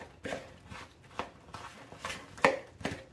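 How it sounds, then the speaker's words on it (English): A knife cutting butter into oat apple crisp topping in a bowl, soft irregular chopping taps about every half second, faint and close, with no voices. "I like to use a knife and go ahead and just cut that butter on in a little bit more."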